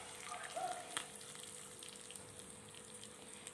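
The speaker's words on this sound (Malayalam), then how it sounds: "ആ താളിച്ചത് ആ എണ്ണയോടുകൂടി ഇതിൻ്റെ മുകളിലായിട്ട് അങ്ങ് ഒഴിച്ചു കൊടുക്കുക." Tempering oil with shallots, dried red chillies, mustard seeds and curry leaves poured over a banana stem curry gives a soft, steady sizzling hiss. It stays faint and even throughout, with no talking.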